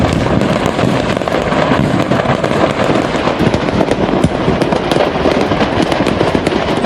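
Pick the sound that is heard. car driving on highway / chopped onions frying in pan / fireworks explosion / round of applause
fireworks explosion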